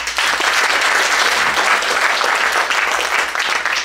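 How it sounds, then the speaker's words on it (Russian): An audience applauding at a 60th birthday celebration evening, dense sustained clapping from a crowd, loud and even throughout. "За это ваши аплодисменты."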